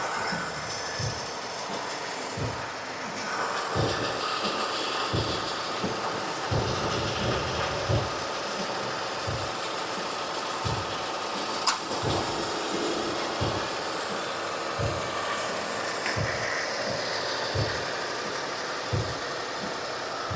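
A 2015 Subaru Forester engine idles steadily, a suspected lifter or roller rocker fault in question, with a regular low pulsing knock repeating about every second over a constant mechanical hum, close and fairly loud, no talking.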